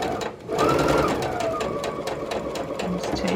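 A sewing machine runs fast and steady stitching quilt fabric for a jelly roll table runner, a close rapid mechanical whir with a faint rattle, uninterrupted throughout.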